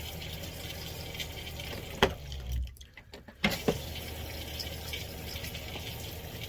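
Pink antifreeze runs through camper plumbing into a toilet as a steady, fairly soft flow of liquid, briefly broken by a couple of clunks and a short lull before the stream resumes.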